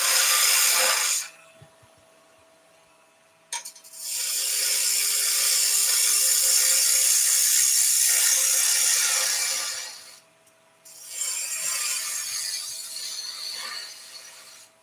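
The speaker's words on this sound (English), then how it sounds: "We're going to go with a 3/8 bowl gouge" A 3/8 bowl gouge cuts into wood spinning on a lathe while a German smoker is roughed to shape, giving sustained loud hissing, scraping cuts in long passes broken by brief pauses and a sharp knock.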